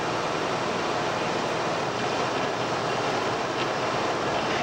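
A car engine runs steadily while its primary ignition connections are checked, giving a constant, close broadband roar with no breaks and no voices.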